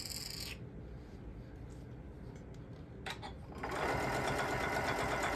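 Sewing machine running with loose items resting on it, a steady mechanical whir with rattling that swells louder in the second half, continuous and close.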